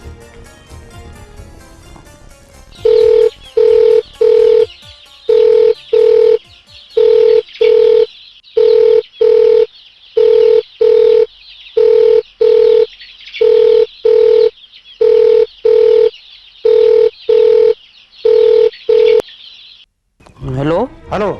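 A telephone line pulses with a long run of evenly spaced electronic tone bursts, about twenty in a row, loud and clear, as a call is placed to a police inspector; a short noisy rustle follows at the end.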